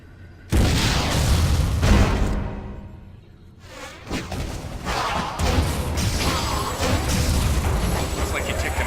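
Heavy booming blasts and thuds from a missile strike in the video game Metroid: Other M, loud and close with rumbling aftermath and mechanical clatter.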